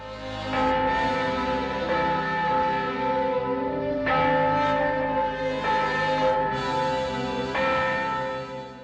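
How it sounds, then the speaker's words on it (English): A large church bell tolls repeatedly in slow, regular strokes, each deep ringing tone swelling and lingering into the next. "And the nun crosses herself and rings the bell, and Scotty walks out of the bell tower"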